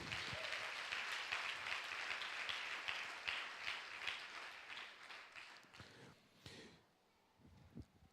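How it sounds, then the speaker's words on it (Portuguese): A church congregation applauds steadily at a moderate distance, a dense wash of many hands that holds for several seconds, then thins and fades out. A few stray sounds follow. "E dê uma salva de palmas para o Senhor."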